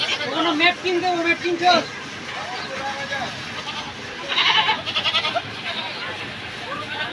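A goat bleats several times nearby at a village livestock market, wavering calls over a busy outdoor crowd murmur.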